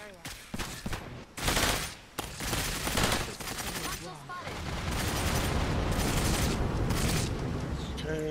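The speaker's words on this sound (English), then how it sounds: "Carpet bomb this area." A carpet-bombing airstrike in Cepheus Protocol starts with a string of sharp blasts and bursts that grow into a dense, continuous roar of overlapping explosions, loud and sustained.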